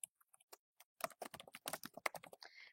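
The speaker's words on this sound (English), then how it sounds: "we're just going to type in there sales page" Fingers typing on a computer keyboard, a quick, irregular patter of close, crisp key clicks that speeds into a dense burst and then tails off, with no voices.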